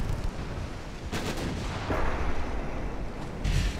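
Heavy AP shells fired from the big guns of a French dreadnought battleship in a naval combat game, a dense rumbling boom with sharp muffled blasts around one and three and a half seconds over constant low roar.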